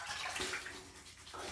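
Water runs from a tap in a steady broadband rush, close and fairly loud, while someone prepares to shave with a Trader Joe's shave product, continuing unbroken with no voices.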